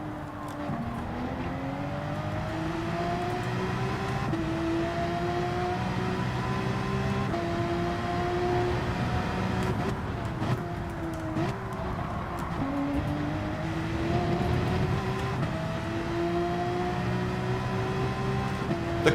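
Race car in Gran Turismo 7 lapping a track, its engine droning steadily throughout with rising and falling pitch as it shifts through gears, brakes and coasts into corners, loud and continuous with no talk.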